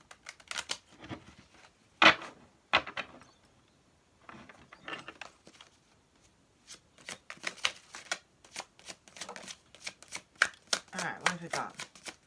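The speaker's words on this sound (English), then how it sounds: "Super shuffle." Tarot cards being shuffled in bursts of rapid riffling and slapping, close by and moderately loud, with pauses between runs and some quiet talk in between.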